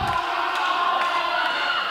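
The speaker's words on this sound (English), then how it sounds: "now getting this crowd into it." At a wrestling event, a large crowd cheers and shouts in a loud, continuous roar with rising voices, sounding full and close throughout.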